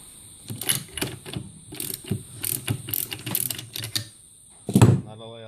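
Motorcycle starter clutch nut being undone with a shaft holder tool, a series of sharp ratcheting clicks in uneven bursts, ending with a louder clunk, close by, with brief speech.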